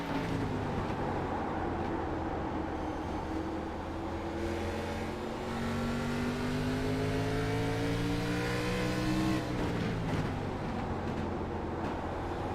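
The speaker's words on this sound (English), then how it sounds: "You can hear the 903 playing with throttle" A K&N race car engine revs steadily as the driver blips and plays with the throttle, the pitch sweeping up and down in a continuous loud drone with no talking.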